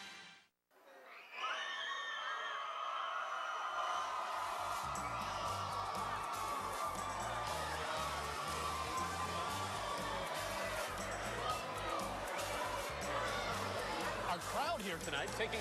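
A stadium crowd of about 3,000 cheers at a high school football pregame between Blount and Vigor, a steady roar of whoops and shouts with a commentator's voice over it.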